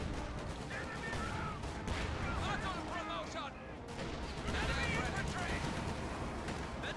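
A Raketenwerfer and Volksgrenadiers fire during a Company of Heroes 2 battle against a Sherman. The gunfire is dense and continuous, with layered shots and explosions under a commentator's steady talk.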